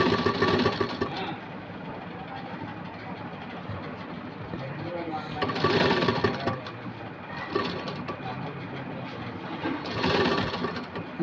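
A sewing machine stitches cloth for Aari embroidery on a princess-cut piece, giving a steady close mechanical whir that swells into louder bursts of rapid stitching about every few seconds.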